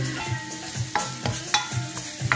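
Porcini mushrooms drop into a hot pan with oil and marjoram for fettuccine ai funghi, and a close sizzle runs under repeated sharp stirring clicks and scrapes at an uneven rhythm.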